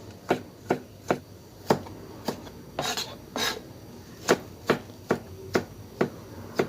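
A knife chops firm cabbage into thin slices on a cutting board, about a dozen sharp, evenly spaced cuts close up with a brief scraping shuffle midway and no talking.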